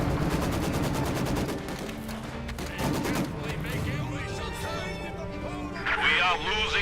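Tank and mortar fire in the World War II strategy game Company of Heroes 2, heard as dense, continuous gunfire and explosions with a steady loud roar, while a commentator talks over the battle throughout.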